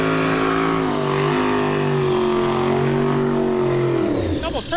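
Turbocharged Chevrolet Nova drag cars at a street-style drag racing event, a steady loud engine drone with rising harmonic pitch that sweeps and fades near the end, with voices over it.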